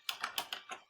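Typing on a computer keyboard, five crisp key clicks in quick, slightly irregular succession, close and quiet with no talking.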